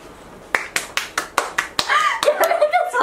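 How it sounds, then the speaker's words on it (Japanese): A few people clap in sharp, evenly spaced claps, close and distinct, before talk and laughter take over toward the end. "やめてその拍手。"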